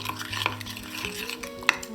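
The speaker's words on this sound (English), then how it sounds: "And mix that together, mix it really well" Homemade traditional wood filler being mixed by hand, a close, quiet scraping and stirring with soft rubbing strokes and a couple of sharp metallic clinks near the end.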